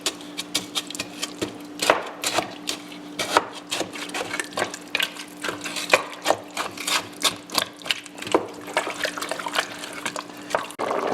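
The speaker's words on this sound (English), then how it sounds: "we're going to let this boil up for about 15 minutes" New Mexican green chili stew with potatoes boiling in a pot, a steady run of close, crisp bubbling pops and clicks over a faint low hum, with no talking.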